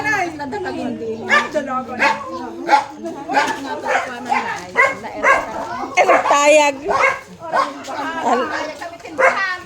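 Dogs bark and yip in quick bursts, mixed with excited talking close by.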